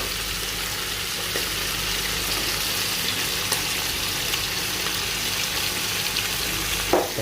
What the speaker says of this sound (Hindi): ताकि ये गोश्त अच्छी तरह भून जाए